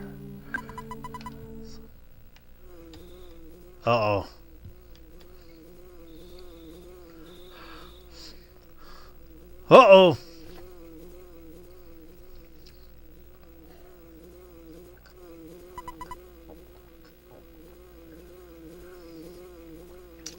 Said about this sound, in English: You hear buzzing that sounds like a bee flying around?